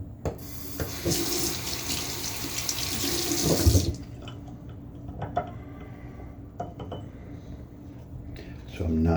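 Tap water runs loudly into a sink while shaving soap is lathered, then cuts off, leaving quiet clinks and soft handling noises.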